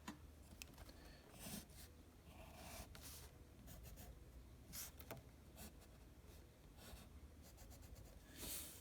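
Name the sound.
sketching triangles on paper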